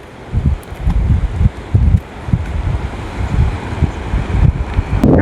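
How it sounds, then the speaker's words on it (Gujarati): Cold wind at the seashore near the coastal Pingleshwar Mahadev temple, loud gusts buffeting the microphone in uneven rumbling bursts throughout, with no voices. "અહીંયા કરવાનું છે આપણે નાસ્તો ને પવન અહીંયા આવે ટાઢો"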